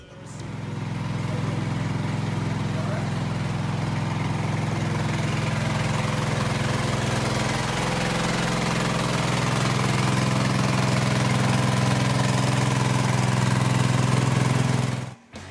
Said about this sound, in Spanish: Ese es el motor que daba luz a una plantación de marihuana desmantelada en Lorca hace unos días.